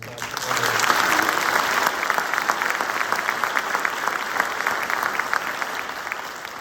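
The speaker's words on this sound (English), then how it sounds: "So one more round of applause." Audience at a state agency awards ceremony in Georgia breaking into sustained applause, a dense even patter of many hands clapping that swells early then holds steady for several seconds.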